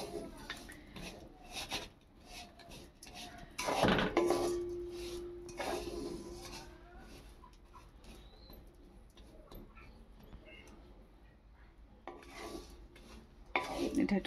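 Sugar syrup for caramel being stirred in a pan for a Christmas plum cake, with intermittent scraping and clinking of a utensil against the pan, plus a brief tonal hum midway.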